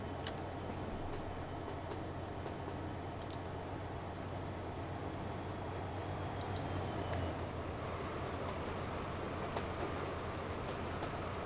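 In the Transport Fever 2 video game, a freight train rolls across a bridge with a continuous low rumble and faint clacking wheels, sounding steady and unbroken throughout.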